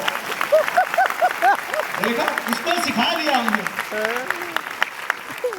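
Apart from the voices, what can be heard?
applause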